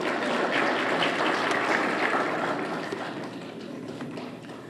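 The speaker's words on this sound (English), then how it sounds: "Another round of applause for Mr. Levon LaFleur." An audience gives steady, loud applause at a SWAC Hall of Fame induction ceremony. The clapping fades slightly toward the end.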